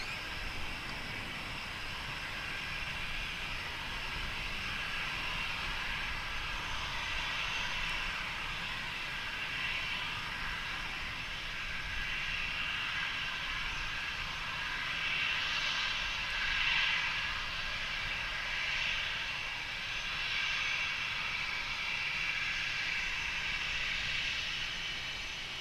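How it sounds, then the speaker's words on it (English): Steady broad roar of aircraft engines at Austin-Bergstrom International Airport in Austin, Texas, a continuous distant rumble with a hissy upper band that swells slightly midway, no voices. "we are here at Austin-Bergstrom International Airport in Austin, Texas"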